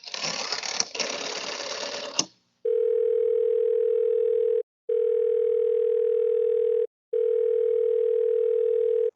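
A telephone dial tone sounds as three long steady beeps separated by brief gaps, clear and loud, following a burst of rustling noise at the start.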